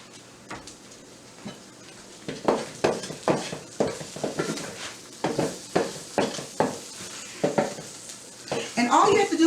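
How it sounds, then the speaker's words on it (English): Rice hits a hot pan for shrimp fried rice and is stirred in repeated scraping strokes, each stroke a loud rhythmic whoosh over a continuous sizzle that grows louder toward the end. "I'm going to turn this back up, and then we are going to go ahead and we're going to add our rice"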